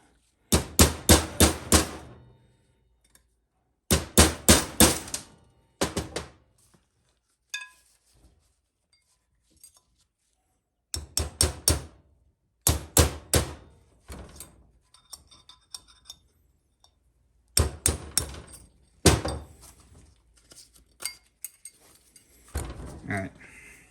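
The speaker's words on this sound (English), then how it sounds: "And then for this one, you're just going to punch it out." A hammer drives a punch against a bushing in a Ford C6 transmission, with rapid clusters of sharp metallic strikes in repeated bursts and pauses between them.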